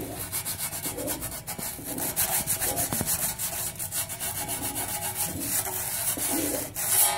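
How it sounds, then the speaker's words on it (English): Sandpaper rubs along the edge of sheet metal in a school metal shop, a steady, close scratchy rasp in quick repeated back-and-forth strokes that continues throughout with no talking. "Okay, you take a little sandpaper."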